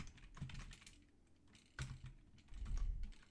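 Rapid clattering keystrokes on a computer keyboard while coding, irregular bursts of clicks close up with a short lull in the middle and no talking.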